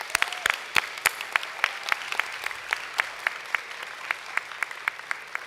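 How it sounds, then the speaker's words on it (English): At a white coat ceremony the audience gives a round of applause for family and friends, with scattered, sparse claps sounding steadily through the hall, moderately loud and with no talk over them. "let's give our family, friends, and loved ones a round of applause"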